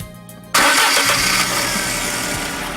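A Fiat Tempra's engine cranks and catches after about half a second of quiet, then settles into a loud, steady near running roar with no talk over it.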